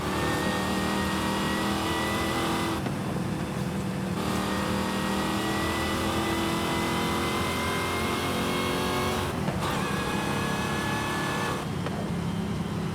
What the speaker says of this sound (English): Let's go inside so we can hear that supercharger.